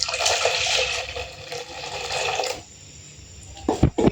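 Water poured into a bowl while making pani puri, a steady rushing splash for about two and a half seconds, then a quieter lull and a few short bumps or knocks near the end.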